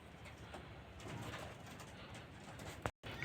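Soft cooing of an old giribaz pigeon of a full-sira line in a home loft, faint low coos over quiet background with a brief dropout near the end, no talk.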